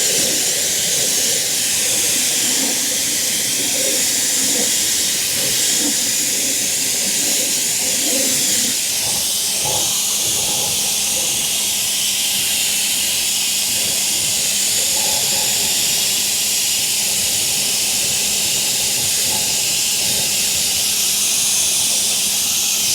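A Ryobi 1.8 GPM pressure washer sprays a car wheel and tire, a continuous loud hiss of water jet running steadily the whole time with faint spattering.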